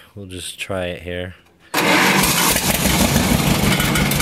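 An Allis Chalmers 433 diesel engine fitted in a 1957 John Deere 420C crawler dozer fires up abruptly after a brief spoken line, then runs on as a loud, steady, close clattering idle.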